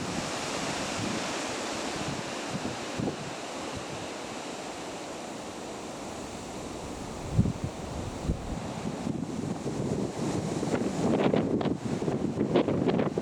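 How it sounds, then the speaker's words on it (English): Strong wind blows outdoors at Rivington Pinetum, buffeting the microphone with a continuous roar and rising into heavier gusts toward the end, with no talk. "We don't need to tell you how windy it is,"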